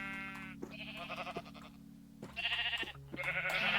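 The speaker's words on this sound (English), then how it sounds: "Sorry, sheep, you're too loud." Sheep bleating in the Minecraft video game, a few drawn-out, wavering bleats in quick succession, loud and close, with short pauses between calls and no talking.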